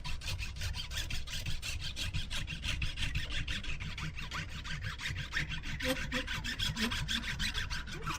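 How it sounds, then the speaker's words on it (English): A hand saw cuts through a plastic inlay on a Marlin 760 gunstock, its teeth clogged with plastic, making quick, even back-and-forth rasping strokes that continue steadily and close up throughout. "I would have thought I would have cut through it faster than that, but I think the teeth are clogged up with plastic"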